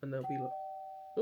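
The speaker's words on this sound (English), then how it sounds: "that's the doorbell." A doorbell rings indoors during a craft session, a clear two-tone chime sustained under a person's talking, which resumes as it fades.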